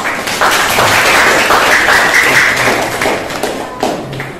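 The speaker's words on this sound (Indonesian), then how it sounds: "Biar semangat, kita beri tepuk tangan dulu dong." A classroom audience claps for a group presentation in a mathematics lesson, the dense applause loud and close, with sharp taps and thumps running throughout and tapering slightly at the end.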